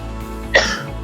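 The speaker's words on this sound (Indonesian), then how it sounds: "masih batuk" A single short cough with a throaty rasp bursts out once, close and fairly loud, against a steady low hum.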